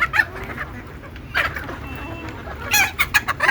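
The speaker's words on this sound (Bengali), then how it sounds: "আমি একদম সোজা সহজে দেশি মুরগি পালন করি" Native deshi chickens cluck in scattered bursts around an afternoon feeding, a few sharp calls rising over a low steady background.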